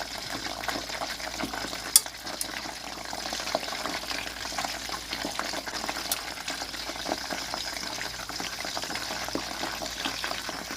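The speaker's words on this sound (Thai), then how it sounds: "ใช้เวลาทอดหมูกรอบใส่เวลาเป็นชั่วโมงเลยค่ะ" Pork belly slowly deep-frying into crispy Thai moo krob over gentle heat, with a continuous soft bubbling hiss of oil and occasional small pops and crackles, fairly quiet and even throughout.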